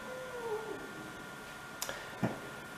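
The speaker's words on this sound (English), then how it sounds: "If you hear a funny noise, it's my cat." A house cat gives one brief, falling meow indoors during a tabletop board game, followed by a few sharp clicks and taps nearby.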